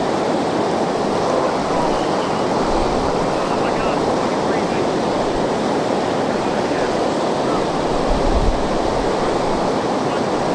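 The cold Colorado River rushes through Glen Canyon in northern Arizona, a loud, continuous broadband wash of flowing water close by, steady throughout with a slight swell near the end.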